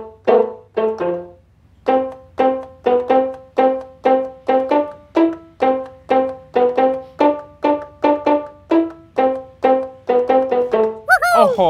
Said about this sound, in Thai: มันเป็นเสียงเหมือนเครื่องสายในออเคสตราและดีดทุกคน